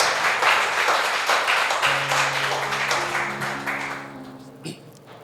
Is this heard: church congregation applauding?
yes